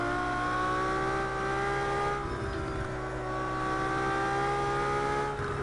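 A LaFerrari's V12 drones steadily in third gear while climbing a hill on the Nordschleife, a loud, sustained engine note with rising harmonics, a brief dip around two seconds, then pulling hard again.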